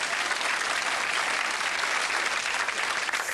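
A studio audience breaks into sustained, dense applause, a continuous wash of clapping at even loudness with no talking over it.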